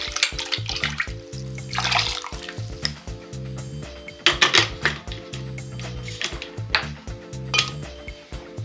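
Water splashes and pours in intermittent bursts, rinsing freshly ground ingredients into a cooking pot for an oxtail broth. The splashing comes close and moderately loud over a steady low hum in a home kitchen.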